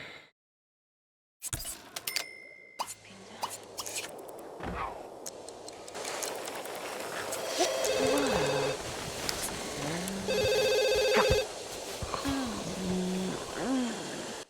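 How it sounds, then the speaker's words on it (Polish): A ringing telephone in The Sims 2 sounds in short repeated electronic tones over game music and ambient effects, loud and close against the background. "Telefon mnie obudził."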